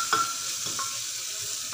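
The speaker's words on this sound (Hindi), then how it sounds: "अब हम इसमें टमाटर ऐड करेंगे, अब हम इसको अच्छे से चला लेंगे।" Tomatoes stirred in a hot pan while cooking bottle gourd curry, with a steady soft sizzle and a few brief scraping strokes of the spoon, close and moderately quiet.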